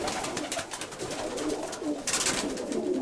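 Soft cooing from a speckled pigeon repeats at a steady rhythm close by, with faint rustling and background noise and no talking.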